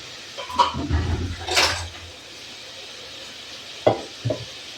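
Hot oil sizzles steadily in a frying pan ready for potato and chana dal, with a few scraping stirs early on and two sharp utensil clinks near the end, close and fairly quiet.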